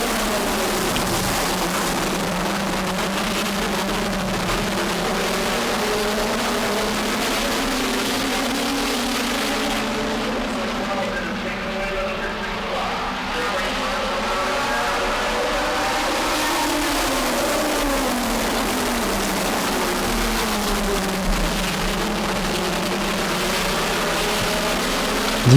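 Race cars accelerating together at a restart on a 5/8-mile track: a steady, fairly distant roar of engines that rises and falls in pitch as the pack passes, with no speech.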